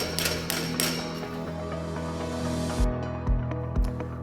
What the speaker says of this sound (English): use your dead blow hammer and make sure that you secure the rest of your end caps in place